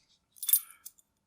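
Padlock keys are picked up with a quick bright metallic jangle, a cluster of clinks followed by one or two lighter taps, close and otherwise quiet.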